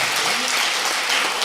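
An audience claps at a Hindi comedy poetry show, with steady dense applause filling the whole moment, loud and close, and a few faint voices mixed underneath.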